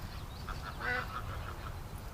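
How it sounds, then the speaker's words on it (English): Ducks quack in a pen with geese and fresh straw, giving a steady run of about half a dozen nasal calls at moderate distance over a low background rumble. "We got a duck in there."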